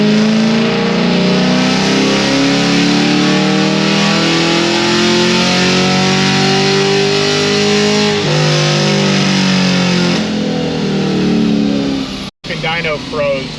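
A Stage 3 C6 Corvette Z06 V8 revs hard on a dyno with a loud, sustained roar that climbs in pitch, briefly dips, and then cuts out abruptly near the end, and a voice speaks over the engine.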